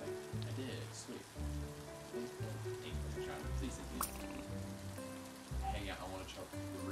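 Rain falling in the video game LittleWood, a steady soft patter throughout, mixed under the game's background music with faint sounds now and then.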